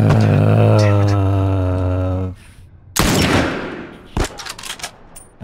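Gunfire in The Last of Us video game: a loud broadband burst of shots after a sustained tonal passage, followed by scattered sharper cracks and thuds fading toward the end.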